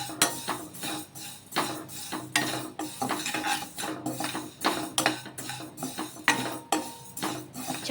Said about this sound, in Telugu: ఈ సేమియాని మీడియం ఫ్లేమ్లో వేయించేసుకుందాము